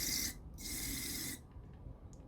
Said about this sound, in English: Just squirt this straight into a spray bottle